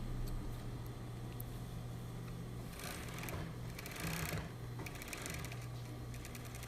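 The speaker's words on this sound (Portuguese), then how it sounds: "Primeiro a gente vai passar aqui na galoneira, né, passar o viés embaixo" A coverstitch machine (galoneira) runs in short quiet bursts, stitching bias binding along the underside of a smooth bra cup, with a fast mechanical chatter and low hum in between.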